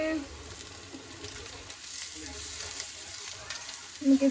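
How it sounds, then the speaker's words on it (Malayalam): Onions and Kashmiri chili powder fry in a pan as they are stirred, with a soft, steady sizzle and light scraping, and a voice speaks briefly at the end. "ഞാൻ ഇളക്കി കൊടുക്കാം"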